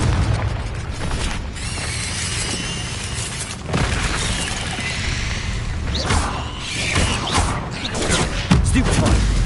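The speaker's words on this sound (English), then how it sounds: "Confringo!" Spell combat in Hogwarts Legacy erupts in a dense barrage of booms, blasts and whooshes as a Confringo fire spell explodes amid ongoing battle effects, loud and continuous.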